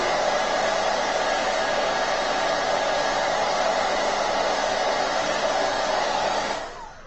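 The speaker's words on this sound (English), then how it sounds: "You just want to dry your chalk, okay? So you just want to dry that just a little bit." A hair dryer blows steadily and loud up close to dry chalk paint. The broad whoosh holds constant for several seconds, then winds down at the end. No one speaks.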